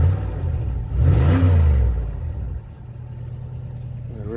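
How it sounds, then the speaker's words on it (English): A V8 car engine revs up with a deep rising roar, then settles back to a lower idling rumble, close and fairly loud. "I'll rev it up a little bit. It sounds pretty good."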